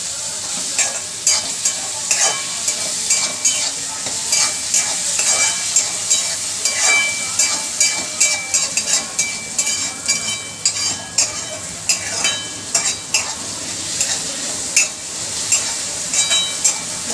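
Ground green chillies, garlic and cumin sizzle in a hot pan, a close, steady frying hiss broken by repeated scraping stirs of a spoon, with no talking.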